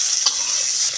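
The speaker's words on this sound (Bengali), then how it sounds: "আমাদের পটলটা সুন্দর করে ভাজা হয়ে গেছে" Pointed gourd (potol) frying in hot oil makes a steady, close hiss and crackle through a short moment, with a faint stir near the start.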